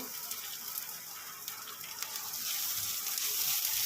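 Slit green chillies and a piece of ginger fry in a pan over lowered heat, a close, steady hiss with light crackles that grows slightly louder midway.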